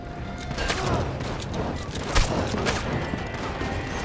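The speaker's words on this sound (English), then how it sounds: "He's shooting through things." Gunfire in the online western game Red Dead Online, a continuous clatter of shots and impacts layered over background game noise, with a few sharper cracks standing out.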